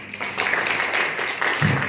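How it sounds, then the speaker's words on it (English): A crowd applauds presenters after a food product development competition presentation, a short burst of moderately loud, dense clapping with a few voices mixed in underneath. "Let's give a big round of applause again for them."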